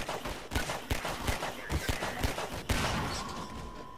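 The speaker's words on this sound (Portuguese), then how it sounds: "Quem é que tá dando tiro aqui, cara?" Gunfire in Half-Life 2 on Xbox, a rapid run of close, punchy shots in an irregular burst pattern, then a sustained roar as the firing gives way to a steady din.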